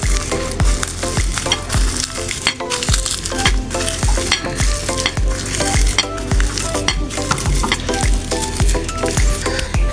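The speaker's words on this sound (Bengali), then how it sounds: "ঘি দিয়ে ভালো করে এটা আবার একটু ভেজে নেব।" A fish bharta mixture frying in ghee, a loud, continuous sizzle running throughout with frequent rhythmic scrapes of a spatula against the pan, and no voices.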